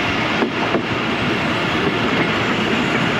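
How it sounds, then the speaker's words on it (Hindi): A passenger train on the Lahore to Rawalpindi line slows near Rumeli railway station in Pakistan: a loud continuous rumble of wheels on rails, with a couple of soft clacks early on, heard from inside the carriage. "ये ट्रेन हमारी एक बार फिर स्लो हो रही है और रुमेली रेलवे स्टेशन के करीब हम पहुंच चुके हैं।"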